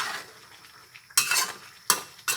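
Tteokbokki with tomato paste and mushrooms cooks in a pan with a low simmer, broken by three loud scraping bursts as a utensil stirs against the pan.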